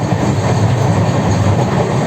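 Loud, steady rumble of the moving Vivek Express train from inside the carriage, with a constant low roar and faint rhythmic wheel clatter.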